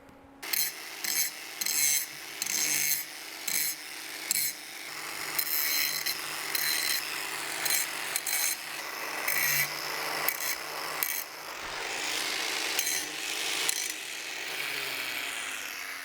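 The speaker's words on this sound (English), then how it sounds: "Now we're going to put a good bevel on these" A grinding tool bevels the ends of metal frame tubes for a Sportster motorcycle, biting in short repeated bursts, then running in longer continuous passes, close and harsh, with no talking.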